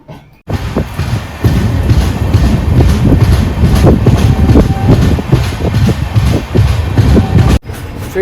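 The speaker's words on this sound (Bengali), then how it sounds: "ট্রেনটা নিজের গতিতে ছুটে চলেছে" The 18615 Kriya Yoga Express running at speed at night between Kolkata and Kharagpur, heard from on board as a loud, continuous rumble with rhythmic rail clatter and wind buffeting, briefly dropping out near the start and end.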